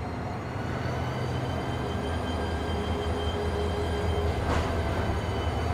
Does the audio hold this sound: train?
yes